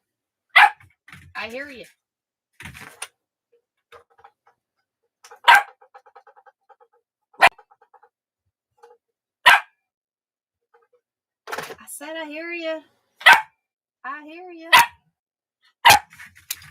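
A dog barks in sharp, loud single yips spaced every couple of seconds, with a few whimpering whines between them, while a person talks back to it.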